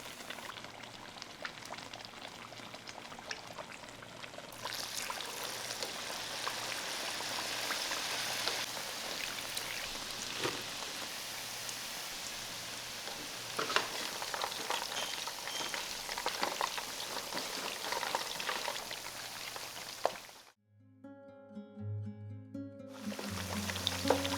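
Shrimp and sweet potato fritters sizzle steadily in hot oil, a continuous crackling hiss that runs for about twenty seconds before cutting off abruptly, followed by a few brief muffled sounds.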